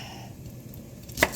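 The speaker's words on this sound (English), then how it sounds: "these are small carrots, so I'm just cutting them up into little pieces" A kitchen knife cutting small carrots into little pieces: one crisp, sharp chop against a board after a quiet moment.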